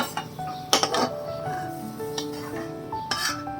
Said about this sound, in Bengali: এবার আমি এটা একটা অন্য পাত্রে ঢেলে নেব।